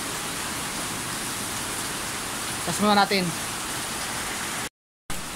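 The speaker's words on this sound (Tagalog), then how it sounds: "Ulan po ngayon." Steady rain falling as a constant hiss throughout, briefly interrupted by a short spoken phrase, with a momentary dropout near the end.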